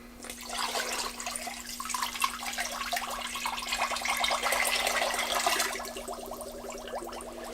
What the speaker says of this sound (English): And then we'll take our water and put that in the pot as well.